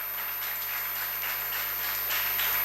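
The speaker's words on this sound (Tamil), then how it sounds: "அவங்களுக்காக நல்லா ஒரு முறை கைத்தட்டலாம்ல" Steady applause from a crowd, many hands clapping at once and holding an even level throughout.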